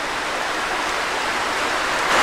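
Forest creek beside a trail in a Pennsylvania state park, flowing with a steady, even rush of water, close and continuous with no talk.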